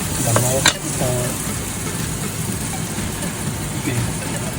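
Meat sizzles and fries steadily in a pot while sinigang is being cooked, with a few soft stirring clinks near the start and a continuous crackling hiss throughout.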